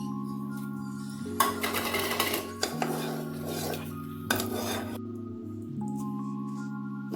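Grape halwa scraped from a pan onto a plate, with a metal utensil clinking and scraping against the cookware in several bursts over a steady low hum.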